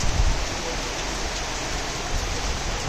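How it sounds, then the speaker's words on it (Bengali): Heavy rain pours during a storm, a steady, dense roar of hiss that stays loud and unbroken throughout, with a slightly stronger gust of noise at the start. "বৃষ্টি হচ্ছে"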